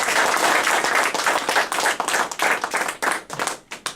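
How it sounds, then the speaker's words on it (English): Applause from an audience at a club installation ceremony, dense continuous clapping that fills the room, then breaks up into scattered separate claps and thins out toward the end. "Let us all give them a big round of applause for this."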